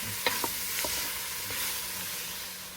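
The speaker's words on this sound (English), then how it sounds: "Trying to get some of the bits off the bottom. Deglaze it a little bit." Onions being stirred and deglazed in a pot for Creole jambalaya: a steady close sizzle with a few sharp spoon scrapes and clicks against the bottom near the start, and no voices.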